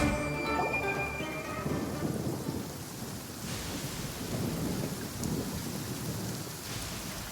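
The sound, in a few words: thunder effect from a Genshin Impact attack, video game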